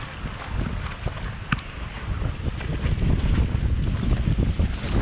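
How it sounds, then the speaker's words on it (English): Strong northwest wind from Hurricane Isaias buffets and roars across the microphone in rough gusts, building louder toward the end, with faint water noise beneath. "some northwest wind there. It's starting to circle around us."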